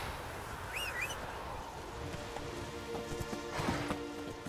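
Hooves clip-clop at a steady galloping rhythm as a horse is ridden in The Witcher 3, with birds chirping outdoors and faint ambient game sounds behind.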